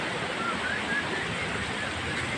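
Water pours steadily from a mountain spring on a hill walk, making a constant close rushing and splashing noise with no pauses.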